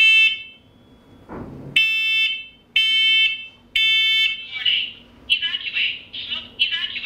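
A combination smoke and carbon monoxide detector sounds its test alarm in three loud, piercing beeps, separated by short gaps, followed by a synthetic voice speaking warnings.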